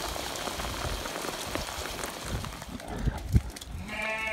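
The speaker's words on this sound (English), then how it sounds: "You see it's actually buffeting down with rain." Heavy rain pours down on a Pembrokeshire sheep farm, a steady loud hiss throughout, with a few low thumps and a short animal call rising near the end.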